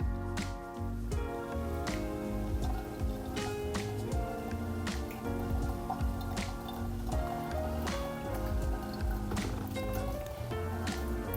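Water is poured in slow circles over ground coffee in a Steadfast Brewer, a steady trickling splash that runs without a break and with no voices.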